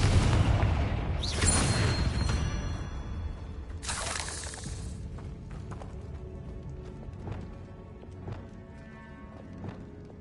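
Spell explosions in the video game Hogwarts Legacy: a dense, rumbling mix of booms and crashing bursts, two bright blasts near the start and middle, then fading clatter and thuds at moderate level.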